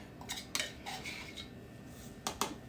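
Chopped cherries stirred into a thick candy mixture with a spoon, giving soft scraping and a few sharp clinks against the bowl, close and quiet, with no talking.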